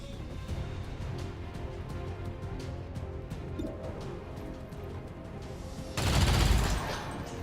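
A volley of gunfire crackles in XCOM Long War 2, with many quick shots in a row and then a louder, heavier burst near the end, and no talk.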